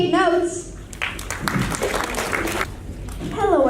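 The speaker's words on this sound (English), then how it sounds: "Please give them a round of applause" Applause from a school audience after a class presentation at a climate change summit, a dense broadband patter filling the middle of the clip with voices and talk at the start and end.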